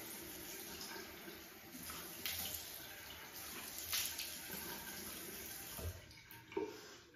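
Water runs steadily from a bathroom sink tap as it warms up, a continuous close rush with small splashy variations.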